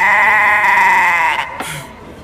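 A goat lets out one loud, close, wavering bleat lasting over a second, followed by a faint rustle.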